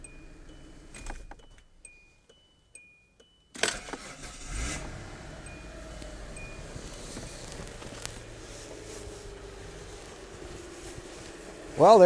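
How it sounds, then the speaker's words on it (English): A car starts using Headway 38120 LiFePO4 cells bolted in as its battery, with a few faint chimes and clicks, then the starter cranking and the engine catching into a steady idle, and a brief rev at the end. "We just started up the car."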